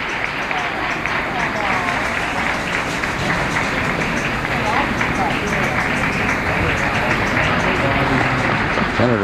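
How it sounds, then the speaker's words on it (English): Supporters of Senator Robert Kennedy, gathered at his 1968 announcement, applaud in a thick, continuous roar of clapping, with crowd voices and commotion layered underneath. "Applause not coming from reporters, but from supporters of the senator."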